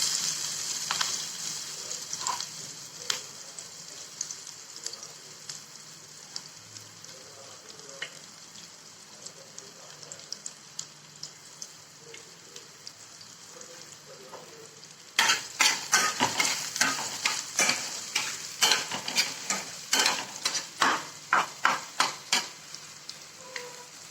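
Onions frying and being stirred in a pan for a dal recipe, a steady close sizzle throughout with repeated scraping clatters of the stirring utensil growing busier and louder in the second half.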